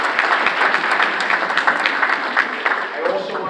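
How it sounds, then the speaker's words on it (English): An indoor audience at a Bronx County Committee gathering claps in steady, continuous applause, fairly loud and close throughout. "Let's give her a big hand of applause."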